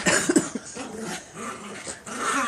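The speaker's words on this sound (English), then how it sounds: "Look at these dogs." Puppies play together, giving short growls and yips at close range, with a busy mix of scuffling and small vocal bursts throughout.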